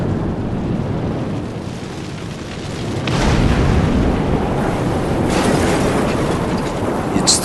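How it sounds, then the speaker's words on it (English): A nuclear explosion's shock wave arrives as a loud, dense, sustained roar, swelling partway through into a deeper rolling rumble like heavy thunder, with no pause and no voices. "It all takes place in utter silence until finally the shock wave."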